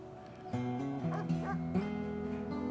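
A dog in the video game RimWorld barks and yips in a short run of bright, tonal calls, moderately close, set against a steady background hum.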